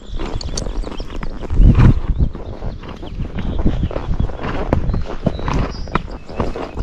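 A Tennessee Walking Horse's hooves clop steadily along a trail at a walking pace, with rustling and a low background rumble throughout.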